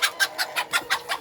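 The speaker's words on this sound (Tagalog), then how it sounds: "dinistorbo tayo nung isang inahin natin na naglilimlim" A brooding hen clucking in a rural Philippine farmyard: a quick, regular series of about seven sharp clucks, close and clear, with no voices.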